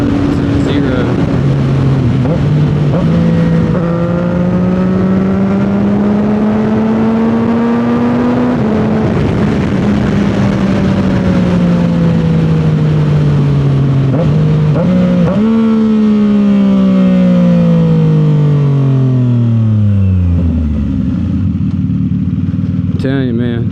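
A 2025 CFMOTO 675 SS motorcycle with a full aftermarket exhaust, loud and close, revving up and down repeatedly with rising and falling engine pitch and a sharp drop at the end.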